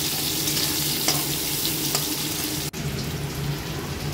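Cumin, bay leaf and dried chilli dropped into hot oil after a fried hilsa fish head, sizzling loudly and steadily at close range, with one brief knock of a utensil partway through.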